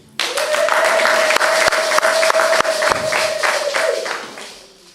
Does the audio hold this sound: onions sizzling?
no